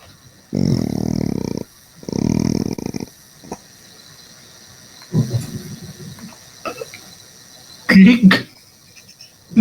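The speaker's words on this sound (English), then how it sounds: "friggin' Wolf Den was playing the cat noises" Big cat roaring noises played back during a livestream, two long loud growling roars followed by shorter rumbles and a brief burst near the end, with quiet gaps between.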